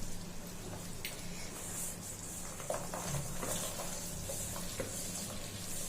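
Dry fruits are stirred into thick sugar syrup in a pan for a festival prashad, making a continuous bubbling sizzle with occasional scraping strokes of the spoon.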